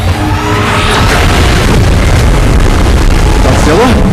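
A Godzilla beam blast and explosion in PUBG roars as one loud, continuous rumble with rushing noise, while a voice speaks over it.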